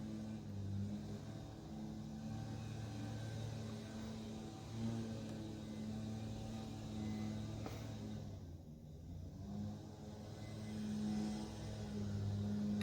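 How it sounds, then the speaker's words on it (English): A gas leaf blower blasts leaves off parked cars, a steady droning engine roar that holds for the whole stretch, with a brief dip in the middle before it surges back. "Oh, he's leaf blowing the cars off."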